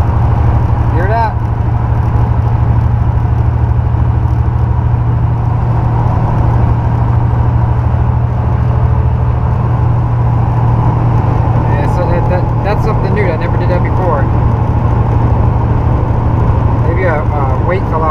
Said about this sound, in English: Problem is anything over 60 miles an hour got a bad vibration up front.